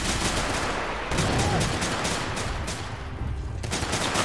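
Mortar rounds land in a chaotic video game battle, a dense wash of booming explosions and crackling gunfire with several sharp strikes standing out, continuous and loud throughout.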